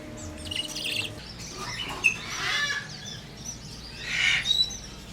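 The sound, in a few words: small pet parrots chirping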